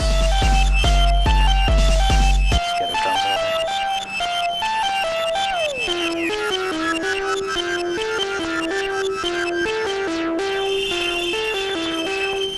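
A bright Mutable Instruments Beads synth module plays shimmering tones with sliding, shifting pitches and echoing repeats, layered and continuous with no voices.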